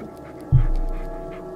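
A dog in the Blair Witch video game pants after a soft thump, a short, close, breathy rhythm of quick exhalations that fades over a second with no talking.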